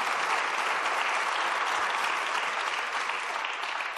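Studio audience applause fills the room, dense and steady clapping from a large crowd at a Turkish children's television show, sustained at even loudness throughout.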